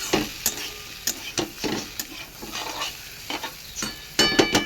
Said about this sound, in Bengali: অনেকটা লাল লাল করে আমি ভেজে নিয়েছি